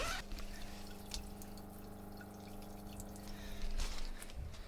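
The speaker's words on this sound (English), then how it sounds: "Every time I turned the pump on, it was draining out the bottom." Water draining out the bottom of an Airstream RV water heater while the pump runs, a quiet continuous trickle with scattered drips, backed by a steady low pump drone and a brief louder splash near the end.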